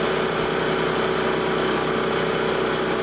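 Frontier OS27 portable sawmill engine running steadily while the carriage creeps slowly through white pine, a continuous mid-pitched drone with a constant hum and no talk.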